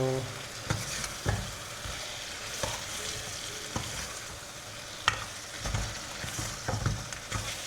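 Tomato and onion being sautéed in a pan for a prawn head gravy, a steady close sizzle with sharp stirring scrapes and clicks of a spoon against the pan recurring every second or so, no voices.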